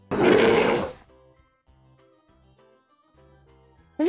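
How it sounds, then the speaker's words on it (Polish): A bear lets out a single short, rough grunt, loud and close, then near silence follows. "Niedźwiedź."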